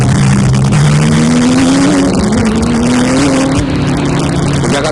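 Racing motorcycles up to 1000cc scream past loud and close at a race meet on a road circuit, one engine climbing steadily in pitch through acceleration with others droning behind, and no talk over it.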